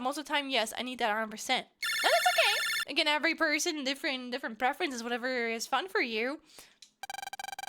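A phone rings in the Mega Man Battle Network 5 video game, with an electronic ring bursting in over continuous talk and returning as a steady beeping tone at the end.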